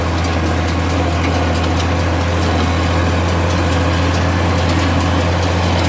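A tractor engine runs steadily while hay is baled in an afternoon field, a loud, constant low rumble with mechanical clatter that holds at an even level throughout, with no talking.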